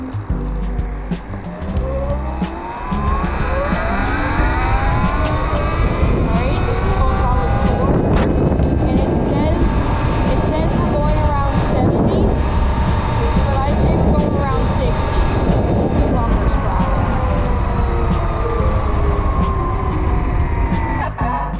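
Electric dirt e-bike at full throttle in sport mode, a rising motor whine with sweeping tonal pitch changes over loud wind rush, continuous and close.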